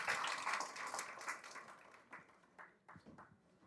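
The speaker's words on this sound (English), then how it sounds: "Can we please give them a round of applause as they go and sit down?" Workshop audience applauding at an event as presenters return to their seats, moderately loud clapping that thins out into a few scattered claps.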